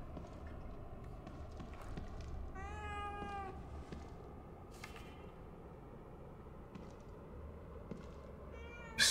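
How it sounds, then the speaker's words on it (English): A cat meows once in The Evil Within 2, a short clear mew over low game ambience, with faint clicks and rustles before and after and no talking. "A cat. I don't ever remember owning a cat."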